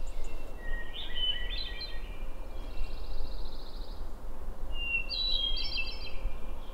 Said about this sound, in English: what you're hearing in the background is a hermit thrush that's using its syrinx to provide you with a very flute-like sound